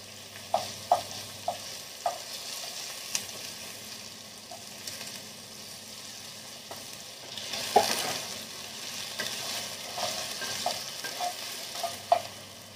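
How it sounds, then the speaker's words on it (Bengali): Potatoes frying in oil in a pan, a low steady sizzle broken by repeated light taps and scrapes of a spatula stirring, with a louder burst of frying midway, close and without voices. "এবার আলুগুলো ভাজা হয়ে গেছে"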